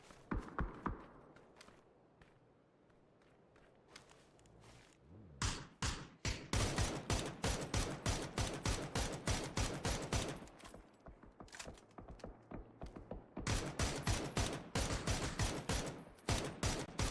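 Gunfire shots fired from a vehicle in an esports video game match, starting with a few scattered shots and then turning into long rapid volleys of rhythmic automatic fire, fairly close and sharp.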